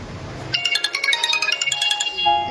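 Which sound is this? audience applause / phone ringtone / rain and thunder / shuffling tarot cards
phone ringtone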